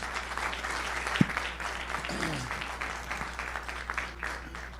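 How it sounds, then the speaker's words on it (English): Audience applause at a regional forum, sustained clapping from a seated crowd heard at moderate distance over a steady room hum. "Let's give him a big round of applause."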